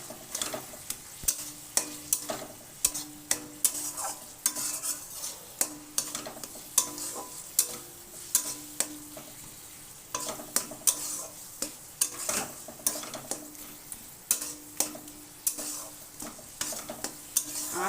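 Spices with coriander powder stirred in a pan for a spinach and chickpea dish: busy, irregular metal-spoon scrapes and clinks over a steady frying sizzle, close and fairly loud, no voices.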